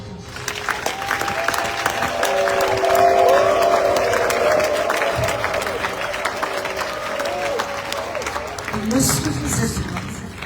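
Congregation at a French-language religious gathering bursts into sustained applause and cheering, a dense crowd roar lasting the whole stretch with voices shouting within it.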